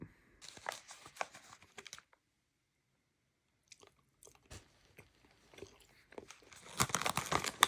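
Someone chews a sleep aid chew up close, giving soft, irregular bites and moist crunches with a long quiet pause in the middle and a louder burst of chewing at the end.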